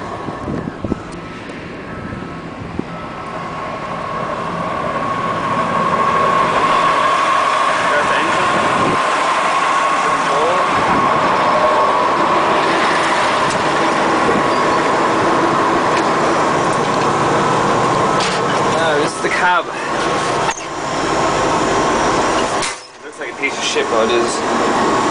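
A scraper earthmover's engine drones steadily close by, rising and settling as it is driven, with wind buffeting and a few short dropouts late on.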